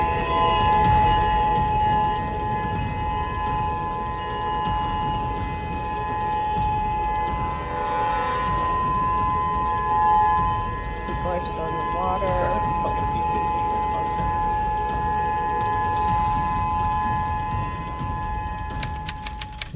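A tsunami warning siren wails in long sustained tones, loud and steady, under a voice talking over it throughout.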